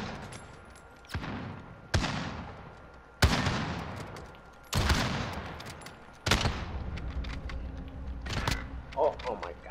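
Bolt-action Kar98 rifle shots in Call of Duty: Modern Warfare, five loud single cracks spaced a second or two apart, each with a long decaying tail, with faint game sounds between them.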